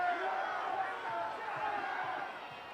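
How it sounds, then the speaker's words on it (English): The Stevenson student section cheers at a high school football game on a homecoming night at Swinehart Field, a steady, somewhat distant wash of crowd noise lasting a few seconds. "Even the Stevenson crowd, the Stevenson student section celebrating there."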